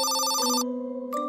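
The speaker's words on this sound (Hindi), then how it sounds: "लेकिन फिर उसका फोन बज उठा।" A phone in an animated Hindi horror story rings with a bright electronic telephone ring, repeating in short bursts separated by a steady lower tone, loud and close.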